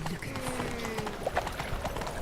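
Roach, Geralt's horse in The Witcher 3, galloping with a rapid rhythmic clip-clop of hooves, close and steady under background music and ambient game sound.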